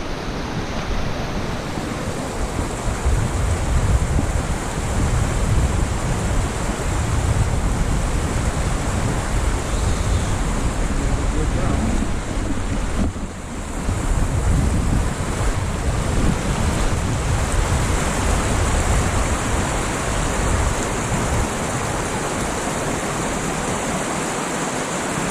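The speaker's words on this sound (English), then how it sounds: "Get ready to cross this another stream here." A mountain stream on the Wonderland Trail rushes in a constant, broad roar near the listener for the whole stretch, loud and steady, with wind on the microphone mixed in and a brief dip midway.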